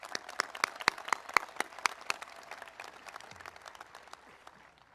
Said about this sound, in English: Little round of applause for them as well.